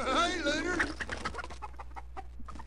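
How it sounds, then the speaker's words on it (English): Chicken clucking in the game Redneck Rampage, a short run of choppy squawks and clucks that starts loud and busy, then breaks into scattered, fainter clucks over a steady low game hum. "Stop shooting the chicken"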